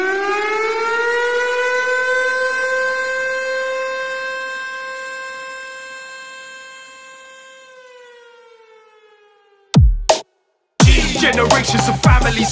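A civil defense siren sounds a long, steady wailing tone that slowly fades over several seconds, followed by a brief silence and then an abrupt burst of loud, dense sound.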